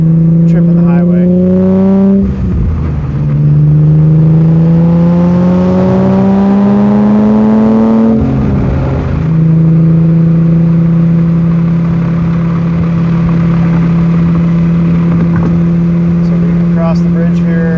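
A 1980 BMW E12 M535i with a Super-sprint exhaust accelerates hard onto a highway, its engine note rising steadily through the gears with brief dips at each shift, loud and continuous from inside the car.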